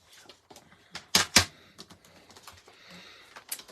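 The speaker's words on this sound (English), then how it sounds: "we're going to cut this basic white cardstock at 5 inches by 11 inches" A paper trimmer cuts white cardstock with a few sharp clicks and clacks, two loud snaps in quick succession, then lighter rattling taps close by.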